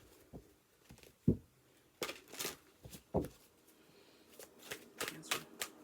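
Oracle cards being shuffled by hand for a reading: several brisk riffles and papery slaps close by, irregular and moderately loud, with no voices.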